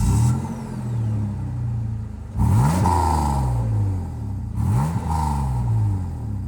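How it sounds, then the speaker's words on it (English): A car with a single-tip exhaust idles with a low rumble, then is revved sharply twice. Each rev surges loudly and falls back to idle, heard up close with no voices. "there is a single tip exhaust here. You can go and take a listen to that right now."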